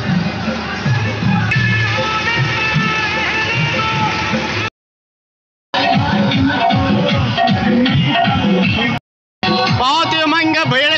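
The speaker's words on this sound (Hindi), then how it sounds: "बहुत ही उमंग भीड़ लगी हुई है यहाँ पास।" Crowd noise at the main gate of the Barham Dev Baba temple, a dense festive throng of voices with music-like tonal layers, loud and continuous, broken by two short silent gaps.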